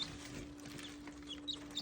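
A newly hatched baby chick gives a few faint, short, high peeps over a low steady hum.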